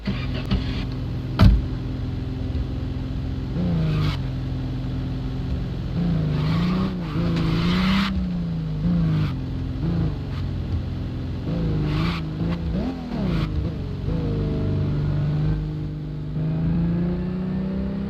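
Car engine in the racing game Drive 21, steady hum rising and falling with revs and gear changes, fairly close and continuous throughout.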